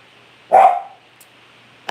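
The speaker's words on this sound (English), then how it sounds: "Nobody wants to listen to you bark." A single dog bark, close and fairly loud, one sharp yelp-like burst followed by quiet and a faint click at the end.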